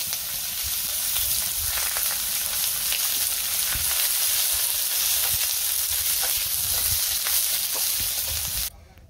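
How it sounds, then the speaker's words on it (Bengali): Spices sizzle and crackle steadily in hot oil while tempering lentils in a home kitchen, a close, continuous frying hiss with small pops, no talk. "ফোড়ন দিয়ে দিলাম, একটু"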